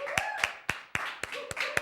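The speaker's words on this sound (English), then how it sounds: "let's go ahead and clap on out" A small studio audience claps for a guest's entrance on a talk show, a short burst of several distinct, fairly close hand claps, with faint voices mixed in.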